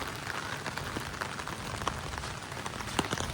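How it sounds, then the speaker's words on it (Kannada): Rain falls at a houseboat dock in Alleppey, Kerala, a soft steady hiss with scattered close drops pattering on surfaces, quiet and without talk. "ಇಲ್ಲಿ ಮಳೆ ಬರ್ತಿದೆ, ಮಳೆ ಟೈಮಲ್ಲೇ ಬಂದಿದ್ದೀವಿ ನಾವು."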